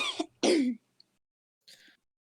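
A man coughs and clears his throat, two harsh close bursts followed by a quieter rasp after a pause, with silence between.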